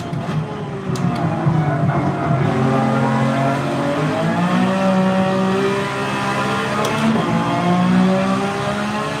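A GT3 race car in a racing video game at Trial Mountain drones steadily and loudly, its engine pitch rising and falling through gear changes with no break in the sound.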